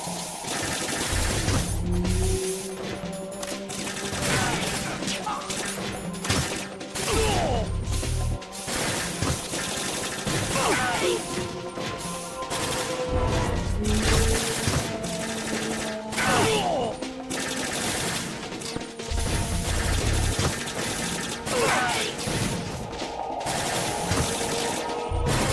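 Gunfire in the video game Metal Gear Solid: repeated sharp shots and mechanical clatter with intermittent heavy thumps, loud and busy throughout a long stretch of game action.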